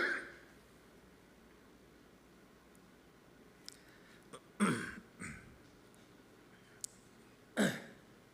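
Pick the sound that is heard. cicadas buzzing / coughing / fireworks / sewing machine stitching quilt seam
coughing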